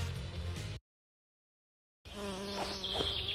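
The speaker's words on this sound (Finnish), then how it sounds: "Ampiainen. Varsin vaaraton." A wasp buzzes steadily and close, loud and alone, broken by a second of total silence before the droning resumes.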